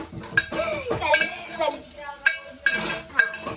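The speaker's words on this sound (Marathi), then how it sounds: "आता ह्याला चांगला ब्राऊन करून घेणार आहे मी कांदा" A spoon stirs chopped onion browning in a pan, making scraping, clinking strokes against the metal at an uneven pace over a soft sizzle, close by, without talk.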